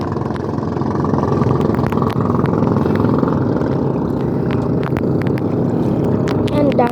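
Fishing boat engines drone steadily on open water with wind buffeting the microphone, a continuous loud hum with scattered clicks and knocks, and no clear talk.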